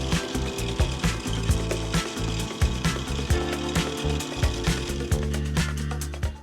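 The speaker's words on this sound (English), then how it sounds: "I'm gonna brace it here and then drill all the way through." A drill with a 7/64 inch bit bores all the way through a braced workpiece, its motor whirring loudly with a rapid, uneven clatter and rhythmic pulses as the bit bites, close and without talk.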